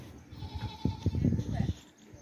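A strong two-toothed sacrificial billy goat bleats at close range in short bursts at a livestock market, mixed with nearby voices while a boy struggles to hold it.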